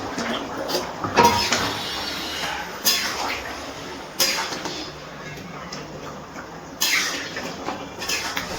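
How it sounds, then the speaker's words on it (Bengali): A utensil clanks and scrapes against a cooking pot while fried cauliflower is stirred with boiled potatoes for a cauliflower prawn curry. Four or five distinct metallic knocks come at irregular intervals over a low background hiss. "ফুলকপিগুলো দিয়ে একটু নাড়াচাড়া করে নিয়েছি।"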